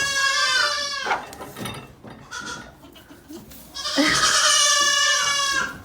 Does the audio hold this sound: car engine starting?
no